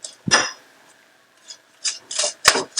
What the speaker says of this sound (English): Keep stirring it around so it will fry evenly.